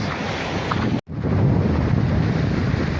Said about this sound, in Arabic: كاين شي ديال الريح حرك شي شويه